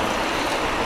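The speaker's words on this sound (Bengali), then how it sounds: "জোর বৃষ্টি চলছে এখানে।" Heavy rain pours in a dense, steady hiss, loud and close, with no talk.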